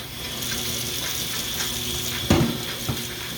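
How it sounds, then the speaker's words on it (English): Hands being washed under a running kitchen tap, a steady close rush of water with a couple of brief splashes and bumps. "I'm washing my hands"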